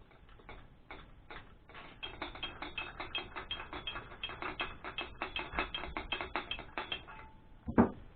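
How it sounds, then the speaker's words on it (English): The barrel comes off an FX Maverick air rifle in a long run of quick, dry mechanical clicks and ratcheting ticks, close and faint, ending with one sharper knock. "So I'm going to go ahead and take my barrel off again"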